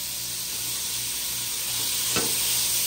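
Fish broth ingredients frying in a pot over a bushman-style cook fire, giving a steady, close sizzle with a brief sharp crackle near the end.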